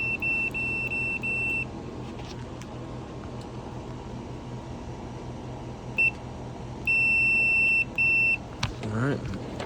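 During an HVAC repair, a continuity tester gives a run of high electronic beeps, some short and some held for about a second, heard close over a steady mechanical hum.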